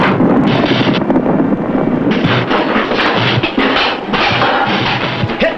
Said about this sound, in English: Their ammunition's exploding.